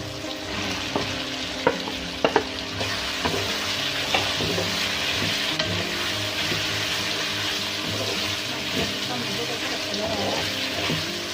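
Chopped radish fries with tomatoes in a pan, sizzling steadily up close while a spoon scrapes and stirs with occasional sharp clicks against the metal.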